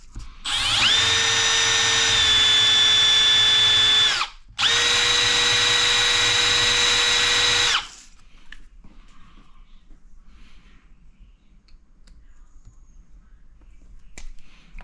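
A power drill runs at high speed in two long bursts with a brief stop between them, loud and close with a steady whine, then cuts out to quiet shop noise.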